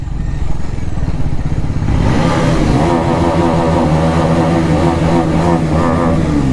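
A loud Bajaj NS400 motorcycle fitted with an SC Project exhaust, its engine revving up and then holding a rough, throbbing roar, close and dominant with no talk over it.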